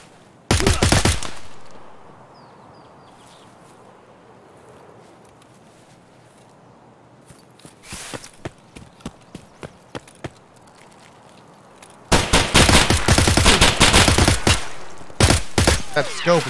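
Gunfire in the video game Escape From Tarkov: a loud burst of shots opens, scattered single shots follow after a lull, then long rapid automatic bursts come close and heavy, with a voice speaking now and then.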